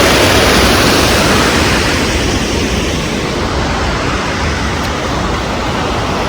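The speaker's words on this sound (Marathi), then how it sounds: "हे थेट पाणी पडतंय ना" Water pours over a semicircular weir on the Som river at Dhamanse Hatwadi, making a loud, continuous rushing roar that stays dense and unbroken throughout.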